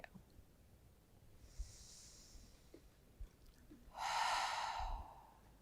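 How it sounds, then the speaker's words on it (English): Audible exhale during an evening yoga flow: a single breathy rush of air about a second long, near and moderately loud after quiet, faint breath sounds beforehand. "Now adding an audible exhale."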